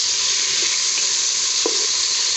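Okra fries in a pan with chili, salt, lemon and cumin, giving a steady, dense sizzle close up with a couple of faint stirring clicks and no talk.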